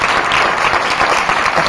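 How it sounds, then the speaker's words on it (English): A live audience breaks into a dense, steady round of applause at a community event, many hands clapping close and loud throughout with no pauses. "Give them a round of applause."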